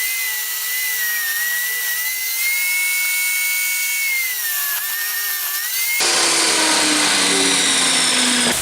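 A table saw rips the rough edge off an old, dirty walnut board, a loud steady high whine with a sudden heavier, noisier cut near the end, alone without talk.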